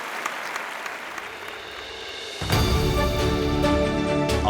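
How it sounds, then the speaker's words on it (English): An audience applauds a speaker at a sustainability forum, light clapping at first that swells into full, steady applause halfway through, with music joining in. "Huge round of applause for Gaurav."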